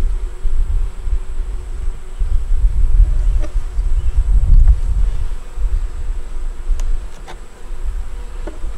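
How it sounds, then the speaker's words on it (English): Honey bees swarm around an open double-deep five-frame hive, a steady close buzzing drone with a few louder swells and passing individual whines as bees fly near. "A lot of bees in the bottom."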